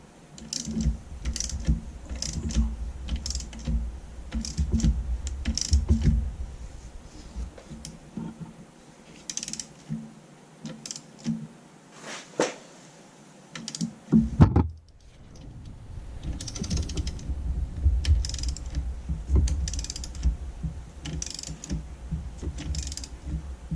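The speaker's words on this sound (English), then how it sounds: "I got, obviously going to use my ratchet here." A ratchet works on the crank pulley bolt of a 2008 Dodge Charger 3.5L engine being rebuilt. Rapid clicking bursts come up close, broken by clunks of tool handling and a brief quiet stretch.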